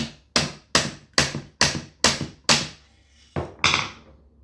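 A hammer taps a long socket head bolt out of a Trend T4 EK router: eight or so sharp metallic strikes, evenly spaced and close up, each ringing briefly, with a short pause before the last two.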